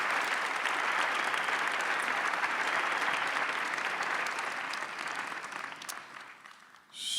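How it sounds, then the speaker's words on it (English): Steady applause from a large audience at a university public health commencement, full and even for most of the stretch before tapering off near the end. "Round of applause for Jonathan."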